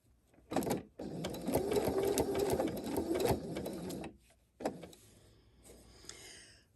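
A sewing machine stitching a zigzag at a 3.0 stitch length, close and fairly quiet, with a short burst, a longer run of rapid needle strokes, then a brief restart and slower whirring.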